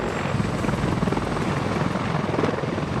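A CH-53E Super Stallion, the US military's heavy transport helicopter, gives a steady, dense rotor and turbine roar with a fast rhythmic chop throughout, loud and continuous.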